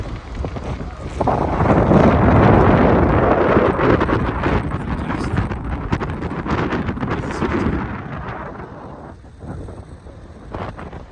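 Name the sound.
strong wind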